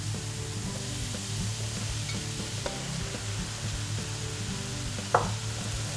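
Flour being stirred into hot oil in a saucepan for a vegan spinach lasagna's roux, with a steady soft sizzle, scraping stir strokes and a sharp utensil tap near the end.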